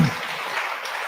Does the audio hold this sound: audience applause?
yes